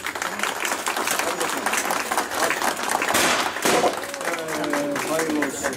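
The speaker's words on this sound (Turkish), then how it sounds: "Evet, bir büyük alkış istiyoruz" Crowd applause at a ribbon-cutting opening ceremony, a burst of clapping rising and swelling around the middle, with people talking over it throughout.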